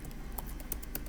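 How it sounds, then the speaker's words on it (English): Keystrokes on a computer keyboard, a handful of light clicky taps spaced irregularly over about a second, faint and close with a low background hum and no talking. "I have difficulty typing while talking."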